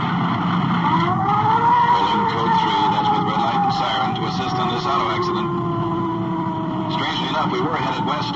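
Car tires skidding around a turn in a radio drama sound effect, a long sustained squeal with a wavering pitch and an engine hum underneath, loud and steady for the whole stretch.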